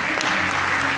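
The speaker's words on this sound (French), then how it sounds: "On peut acclamer pour lui." A church congregation breaks into a short, dense burst of clapping for a young man who has volunteered during a pastor's sermon.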